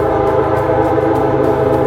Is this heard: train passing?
yes